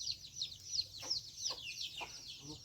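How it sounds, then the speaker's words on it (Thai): Small chicks peep and cluck in repeated high chirps, with a few louder calls standing out over a quiet rural background at a farm with tamarind trees. "ไก่น้อยทุกคนไก่น้อย"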